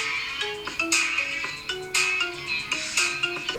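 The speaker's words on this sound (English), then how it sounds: "My Jujutsu Kaisen ringtone" A bright electronic melody chimes in short repeating phrases, a Jujutsu Kaisen phone ringtone playing at moderate volume with no one speaking.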